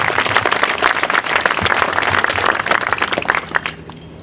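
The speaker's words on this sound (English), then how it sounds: "A little applause" Audience applause at an 8th grade graduation ceremony, dense and loud clapping that fills the whole stretch and thins out toward the end.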